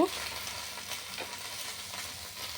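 South Indian style dal cooking in a pot, a soft, steady bubbling hiss with faint stirring noises, quiet and continuous throughout.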